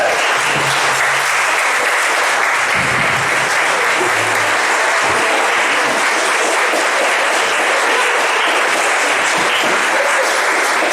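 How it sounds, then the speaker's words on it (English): Dense, steady crowd applause at an outdoor fundraiser picnic, loud and sustained for the full length with a faint low hum beneath and no talk over it. "Round of applause for her."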